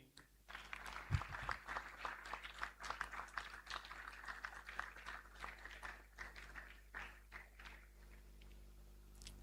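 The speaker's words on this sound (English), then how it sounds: "Please, a round of applause for Mr. and Mrs. Ugeng." Applause at a graduation ceremony, a steady spread of many hands clapping at moderate distance, continuous throughout with a brief louder tap near the start and some background murmur.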